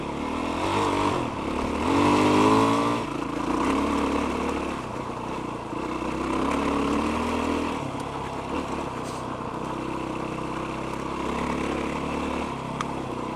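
A Yamaha WR450F dirt bike climbs a desert hill on a two-track trail, its engine droning and rising in pitch as the throttle opens, a continuous rough motor sound with wind and rattle throughout.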